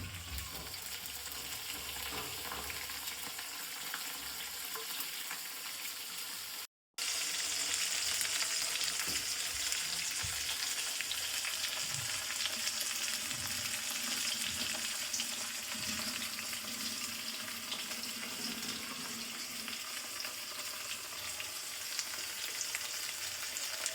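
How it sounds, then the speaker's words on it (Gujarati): Chopped green chillies roasting in a hot pan, a loud continuous frying sizzle with occasional stirring scrapes, briefly cut off early on, then resuming steadily without any voices. "તો આપણે આ મરચાં આ રીતના હલાવી દઈશું અને થોડી વાર શેકાવા દઈશું."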